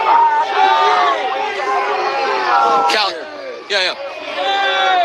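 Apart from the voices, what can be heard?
protest crowd shouting "shame" at agents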